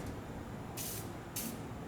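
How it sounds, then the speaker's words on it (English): Two short bursts from a WD-40 spray can, each a sharp hiss about half a second long, sprayed while working on the engine cooling system of an E36 drift car, over a low background hum. "Here we go, WD-40."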